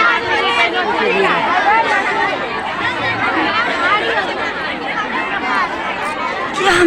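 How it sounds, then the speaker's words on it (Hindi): A dense crowd chatters continuously at a religious gathering where people await prasad, with many overlapping voices forming a steady, loud babble. "देखिए भीड़, सभी प्रसाद ग्रहण करेंगे।"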